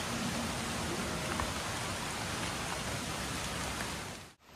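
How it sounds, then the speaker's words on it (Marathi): Light rain falls steadily on a garden as an even, close hiss of fine drops. It keeps a constant level, then fades out abruptly at the very end. "बारीक बारीक असा पाऊस पडतो आहे"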